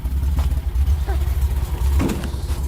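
A white Nissan Z with a new exhaust setup, its deep, throbbing engine rumble close and steady, with brief voices over it.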